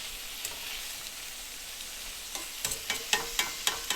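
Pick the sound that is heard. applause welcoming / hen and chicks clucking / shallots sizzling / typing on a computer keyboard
shallots sizzling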